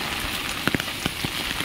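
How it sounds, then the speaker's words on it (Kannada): Heavy rain pours steadily on a road, a dense hissing wash with a few sharper drips and patters standing out, close and continuous. "ಮಳೆ ತುಂಬ ಜೋರು ಬರ್ತಾ ಉಂಟು, ಜೋರು."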